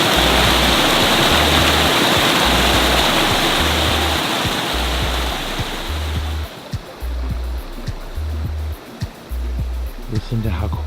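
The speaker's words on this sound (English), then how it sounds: "We've actually got some white water here." Loud, steady rush of white water in a stream in Red River Gorge roaring nearby, fading partly after several seconds, with a repeating low hum underneath.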